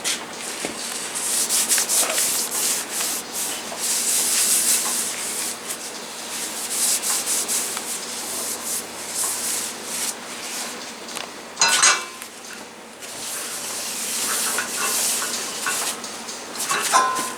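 Grease being rubbed in a thin coat over a cast iron pan, a steady close dry rubbing and wiping with brief scraping bursts, continuous for the whole stretch with no talk.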